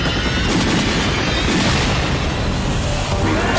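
Gunfire in a film trailer about infected people being shot: loud, dense booming blasts and rapid shots overlapping in a continuous barrage, with no speech.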